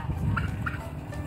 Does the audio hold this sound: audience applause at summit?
no